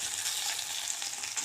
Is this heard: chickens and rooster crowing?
no